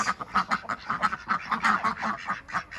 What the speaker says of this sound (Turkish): Ördeklerimiz.